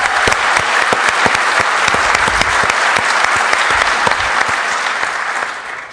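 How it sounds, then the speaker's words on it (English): Audience at a Black Hat 2010 security conference session breaking into sustained applause, dense overlapping clapping that stays loud for several seconds and tapers slightly at the end. "Let's give Ron a round of applause"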